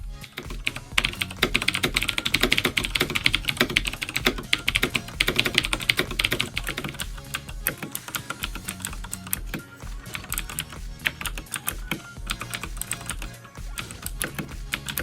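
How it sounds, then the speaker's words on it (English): Steady, rapid typing on a custom WASDKeyboards mechanical keyboard, dense clacking keystrokes heard close and alone with no talking throughout. "Here's a quick sound test for you to get a better idea of what you can expect using this keyboard with the same switch"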